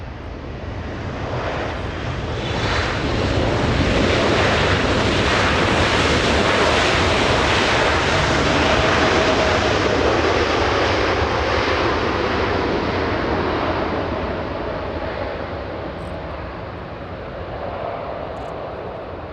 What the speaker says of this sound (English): Spoilers up, flaps down, and GE90 slowing down that 777 on 24.